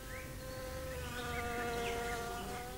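Bees buzz close by in a steady, continuous drone with wavering pitch for under three seconds, with no other sound.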